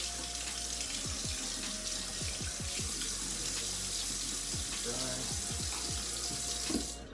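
Steady running water from a tap at a sink while golf clubs are rinsed, a continuous broadband rush with light clinks and handling under it throughout.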